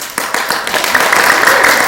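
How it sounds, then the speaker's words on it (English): A group of students in a classroom gives a short burst of clapping, close and lively, rising in density after a few scattered claps. "Now, for a round of applause, let's measure group number 1."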